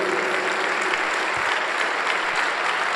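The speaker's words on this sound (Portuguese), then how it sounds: "Vamos dar um aplauso a Jesus?" A church congregation gives sustained applause, a dense, even wash of many hands clapping at moderate distance with no voices rising above it.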